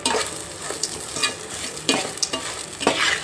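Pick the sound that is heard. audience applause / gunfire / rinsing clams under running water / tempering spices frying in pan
tempering spices frying in pan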